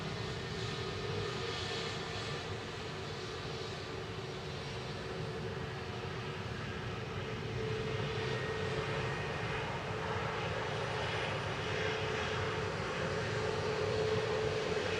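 British Airways jet departing Manchester Airport for Heathrow, a steady, fairly distant engine rumble and hiss that holds evenly throughout and builds a little toward the end, with no one speaking.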